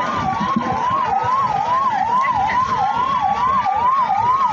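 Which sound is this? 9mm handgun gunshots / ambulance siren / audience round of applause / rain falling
ambulance siren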